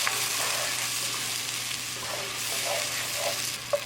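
Tomato puree with ginger, garlic and green chili paste is stirred in a pan for beef curry, a steady close sizzle with light scraping strokes and a sharper clink near the end, unaccompanied by talk.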